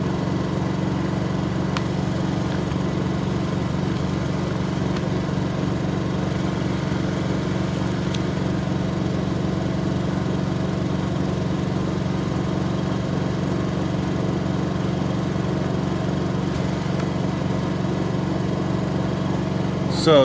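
A Honda EU2200 inverter generator runs steadily on three-year-old 100LL avgas with a propane kit fitted, a constant loud engine drone with an even hum throughout and no talk.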